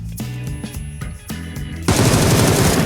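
Rapid automatic fire from a Beryl assault rifle in the PUBG video game: short clipped bursts, then a loud sustained barrage swelling near the end, with no talking over it.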